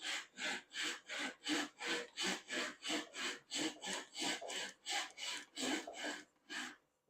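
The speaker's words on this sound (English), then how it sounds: "I have no idea what the sound is going to be like as I'm sawing." A hand saw cuts through wood with steady back-and-forth strokes, about fourteen rhythmic rasping passes that sound close and clear, with no talking over them.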